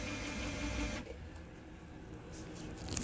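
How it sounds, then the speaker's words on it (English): An RV bedroom slide-out's actuator motor on an 18:1 Venture slide, running in with a steady mechanical whir and grinding that drops off sharply partway through, then resumes more quietly. "Let's run it in all the way so it ratchets."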